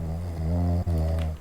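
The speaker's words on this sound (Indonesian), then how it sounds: "Ini ngorok yang ini" Deep, rhythmic snoring close by, a buzzing rattling breath that pauses briefly midway before resuming, with no talking.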